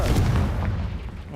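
A Confringo spell blast in a video game, a single deep, booming impact that rumbles briefly and fades within about a second.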